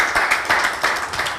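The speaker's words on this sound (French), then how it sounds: "On applaudit, s'il vous plaît." Brief burst of talk show audience clapping, a handful of distinct hand claps in uneven pulses over about a second and a half, moderately loud and close.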